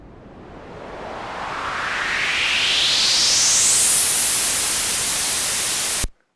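A white-noise riser for an EDM transition, its resonant filter sweeping steadily upward over four bars, swelling from a dull hiss to a bright, loud rush before cutting off abruptly near the end.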